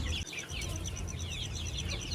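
Desi hens cluck and chirp on a rooftop chicken farm in a busy, continuous stream of calls over a steady low background hum.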